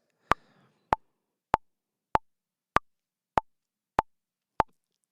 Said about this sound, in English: I'll also be playing with a click at 98 beats per minute.